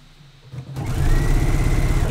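A sewing machine top stitches a swimsuit seam, starting quiet then revving up to a loud, fast, steady rhythmic whir close by, no talk.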